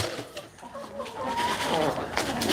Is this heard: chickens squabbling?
yes